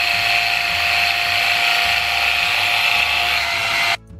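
An epilator pulling out underarm hair gives a loud, steady, high-pitched whirring buzz that runs unbroken for about four seconds before cutting off abruptly.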